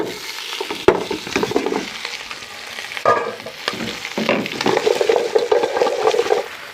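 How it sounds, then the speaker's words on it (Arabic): Cow trotters sautéed with spices in a pot, with loud close sizzling and frying under repeated stirring and scraping, plus occasional knocks of the utensil against the pot. "هنزل بالكوارع بتاعتي تتشوح مع الدنيا دي كلها"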